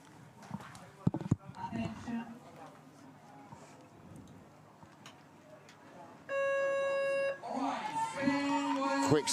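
A start buzzer sounds at a European coastal rowing beach sprint championship final. It gives a loud sustained electronic tone lasting about a second, with an announcer talking before it and crowd noise afterwards.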